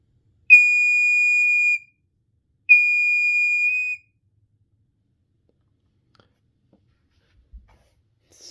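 Two long, piercing high-pitched beeps from a Pyrotronics Smoke Sentinel 30-77ARF5 photoelectric smoke alarm's piezo sounder, each over a second, separated by a short pause, then near silence with a faint thump.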